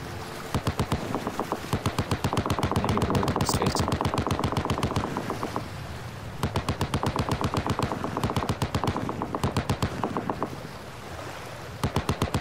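Machine gun fire in a video game: loud, rapid, evenly spaced shots in two long sustained bursts separated by a short pause near the middle, with another burst starting at the very end.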